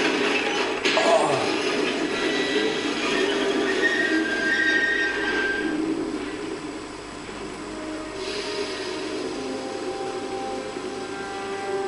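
Train noise from the Captain America: Super Soldier video game, a steady loud mechanical rumble with a brief sharper burst near the start and hissing, clanking texture running throughout with no talking.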